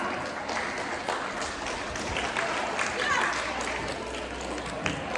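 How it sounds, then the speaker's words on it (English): Audience at a college Easter brunch applauding after a motivational talk, a soft, diffuse wash of clapping that holds steady at moderate level with a murmur of voices beneath. "Raise a round of applause."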